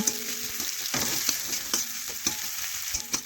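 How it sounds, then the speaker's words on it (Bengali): Chopped onion fries in hot oil with spices while being stirred, a continuous close sizzle broken by scraping knocks against the pan. "এখন নাড়াচাড়া করে পেঁয়াজ একটু লাল লাল করে ভেজে নেব।"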